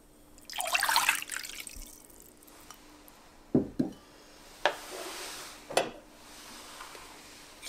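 Warm water is poured for the dough of an Albanian circular cheese pie, a brief close splashing pour followed by a few sharp knocks and clinks in an otherwise quiet kitchen.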